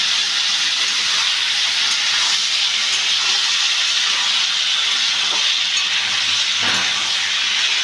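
Ridge gourd, potato and boiled chickpeas fry in a pan with a loud, steady hiss and sizzle that runs continuously without a break.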